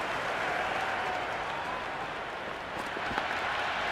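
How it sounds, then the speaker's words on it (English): A stadium crowd in the cricket video game Cricket 26 cheers and applauds in a dense, steady roar that fills the whole stretch at an even level. "There's an almost tangible fervour throughout the crowd at the moment."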